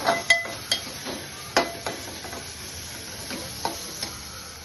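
Turmeric and ginger-garlic paste fry in oil for a fish curry, a low steady sizzle punctuated by several sharp taps and scrapes of a spoon against the pan.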